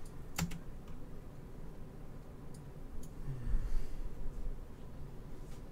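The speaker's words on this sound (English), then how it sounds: "Oh, it was his keyboard." Someone types on a computer keyboard, faint irregular key clicks with a louder tap near the start, light and close under a low background hum, no talking.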